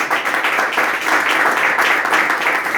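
A church congregation breaks into sustained, dense applause during a worship service in Guatemala, many hands clapping loudly and steadily throughout with no pauses.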